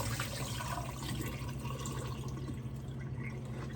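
Water pours steadily out of a cooking pot in a continuous, close gush and splash lasting several seconds, with no talk.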